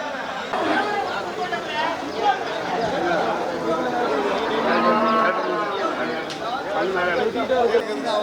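Cattle lowing at a busy rural cattle market in Melapalayam, Tamil Nadu, with repeated loud moos rising over steady crowd chatter and nearby people talking.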